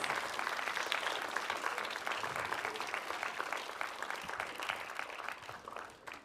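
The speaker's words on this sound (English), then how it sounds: "can we please give our student leaders a huge round of applause?" School assembly audience of middle schoolers applauding their student leaders, a dense, steady round of clapping that fills the hall for about six seconds before tapering off at the end.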